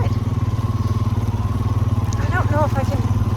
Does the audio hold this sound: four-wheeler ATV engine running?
yes